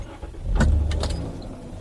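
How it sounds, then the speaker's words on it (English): A Dodge Grand Caravan engine being started, a brief starter crank followed by the engine catching and settling into a low, steady idle, heard close up and fairly loud. "I'm gonna start the engine."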